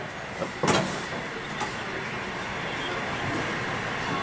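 A model train rolls past on a club layout at the La Mesa Model Railroad club, a steady low rumble with a couple of sharp clicks and knocks near the start, moderately close.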